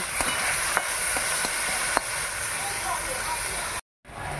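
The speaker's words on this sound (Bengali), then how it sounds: "এবার ভালো করে ভেজে নেব।" Ash gourd peels frying with black cumin, garlic and green chili in a pan, a steady close sizzle with a few sharp pops and stirring clinks, cut by a brief dropout near the end.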